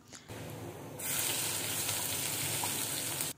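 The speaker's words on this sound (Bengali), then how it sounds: "এরপর এর মধ্যে 1 চা চামচ পরিমাণের জিরা দিয়ে এটাকেও 30 সেকেন্ড মতন ভেজে নিলাম।" Cumin seeds fry with cloves and cardamom in hot oil for a Bengali fish-head muri ghonto, a close, steady sizzle that jumps sharply louder after a second and holds until it cuts off.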